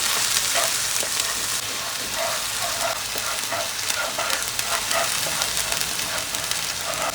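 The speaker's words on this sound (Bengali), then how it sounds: "তেজপাতা, শুকনো লঙ্কা, এলাচ, লবঙ্গ দিয়ে আমি একটু ফ্রাই করে নিচ্ছি" Bay leaf, dried chili, cardamom, clove and onion paste frying in hot oil make a continuous dense sizzle with faint crackles and occasional stirring, close by and steady.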